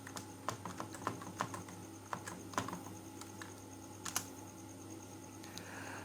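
Code is typed on a computer keyboard for a DragonBoard410c Linux monitoring server, irregular clicky keystrokes close by over a steady background hum, faint and unaccompanied by speech.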